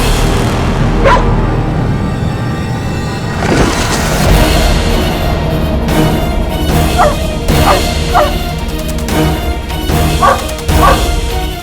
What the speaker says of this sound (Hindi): ये कुत्ता तब भौंक के रहा।